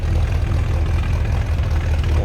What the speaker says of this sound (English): A little bit of rumble coming out of that 400.